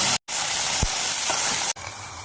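Garam masala with onion, ginger and garlic paste frying loudly in oil left from frying prawns, a steady bright sizzle with a couple of abrupt breaks and quieter sputtering at the end.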